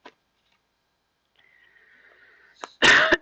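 A single harsh cough bursts out loudly near the end after mostly quiet, preceded by a faint click and a brief thin tone, with no speech.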